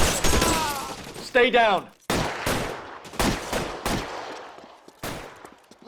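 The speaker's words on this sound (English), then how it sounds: "Lay down some covering fire!" Gunfire in an LA Noire shootout: a shouted voice, then a string of sharp, loud shots cracking out at irregular intervals with short gaps between bursts.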